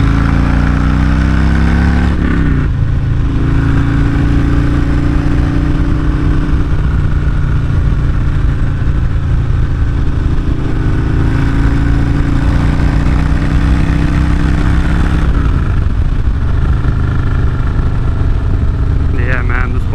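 A 2020 Harley Davidson Road Glide Special engine roars during a ride, a loud, close, steady rumble with surges as the throttle opens and wind noise around it.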